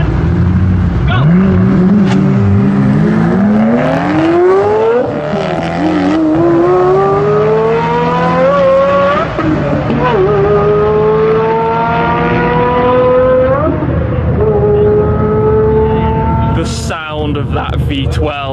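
A Pagani Zonda V12 hypercar launches in a drag race, its engine screaming loud and high as it climbs through rising gear pulls with brief shift dips, while a voice talks over the roar.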